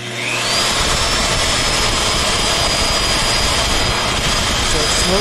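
A $210 VEVOR magnetic drill press spins up and cuts with a 2-inch TCT annular cutter, giving a loud, steady motor whine and grinding roar that starts suddenly and holds close and constant.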